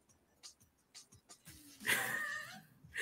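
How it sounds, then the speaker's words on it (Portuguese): A cat gives one loud, drawn-out meow close by, rising and then trailing off, after a few faint, scattered sounds in a community radio studio. "Olha o gato, né?"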